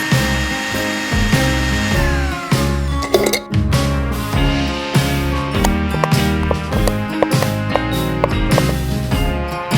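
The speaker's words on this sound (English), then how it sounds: "Put the garlic and ginger into a blender." A blender whirring through garlic and ginger, a loud continuous motor drone with shifting pitch and rattling as the blades chop, running steadily throughout.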